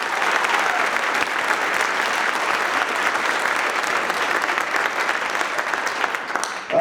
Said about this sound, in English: A round of applause for Mihaela